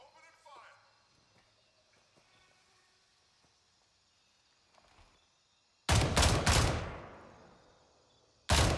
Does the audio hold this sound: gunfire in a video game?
yes